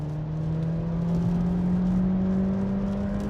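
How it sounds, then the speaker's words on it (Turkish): A 2022 Seat Ibiza FR accelerates in sport mode from 50 km/h after a downshift to second gear, its engine droning steadily from inside the cabin with a faintly rising pitch. "Şu anda 50 kilometrede hızlandım. Vitesi 2'ye düşürdü."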